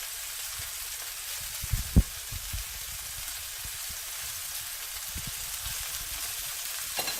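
Venison and sausage browning in a pan over a wood fire, a steady soft sizzle throughout with a few brief clinks and knocks, no talk.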